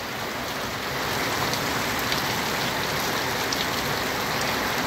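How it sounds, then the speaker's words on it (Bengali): Steady rain falls during a storm, a constant dense patter of drops on surfaces that swells slightly after the first second and then holds even and moderately loud. "আর বৃষ্টি তো সমানে পড়তেছে।"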